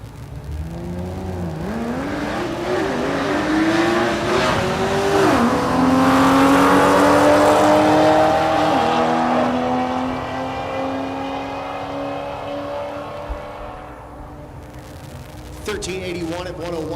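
At Texas Motorplex in Ennis, Texas, drag race cars including a Chevelle roar and rev hard, engine pitch climbing as they pull away, loud and sustained under an announcer's continuous commentary before fading.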